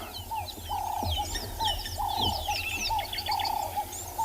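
Repeated soft Cape turtle dove coos in the low-mid range, overlapping with busy chirping of finches and other small birds all around, steady outdoor birdsong at sunrise with no talk.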